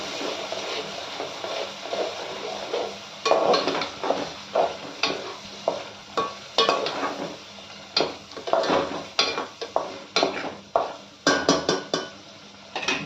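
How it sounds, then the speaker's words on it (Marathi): Onion frying in oil in a pan for a homemade chicken curry, a steady sizzle broken by repeated scraping and clinking strokes of a spoon against the metal pan, close and fairly loud. "तो चांगला परतून घ्यायचा तेलात"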